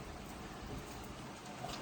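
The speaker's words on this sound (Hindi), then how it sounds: "बारिश रुक जाए एक बार, सवेरे बारिश आएगी भाई आज।" Steady rain falls as a continuous, even hiss of dense drops with no breaks.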